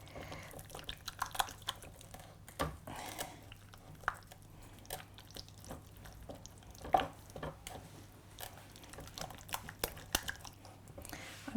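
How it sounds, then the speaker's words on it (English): Mascarpone being beaten by hand in a bowl to work out lumps, with soft irregular scraping, wet clicks and taps of the utensil against the bowl, quiet and close, no talking. "now I'm going to mix this together. You want to beat out the lumps."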